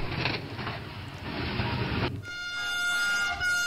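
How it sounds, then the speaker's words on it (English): A Train 18 high-speed train on a trial run rolls in with a broad rushing rumble that cuts off, followed by a steady tonal horn-like hum with faint rumble beneath. "And now the train is coming in"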